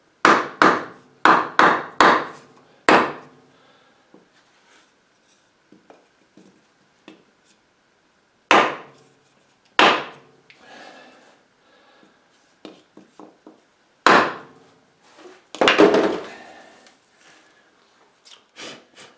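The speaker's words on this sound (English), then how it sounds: "And then give it a few more whacks just to make sure." Hammer whacks on a Kubota L2550 tractor front axle knuckle seal: sharp, loud knocks in quick clusters of three to five, separated by quiet pauses, with faint handling noises between.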